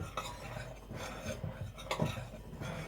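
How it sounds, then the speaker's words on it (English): Salt and bicarb being stirred into flour in a bowl for soda bread, quiet rhythmic scraping and rubbing with occasional light knocks against the bowl, close and soft, no voices. "I'm just going to mix in the salt"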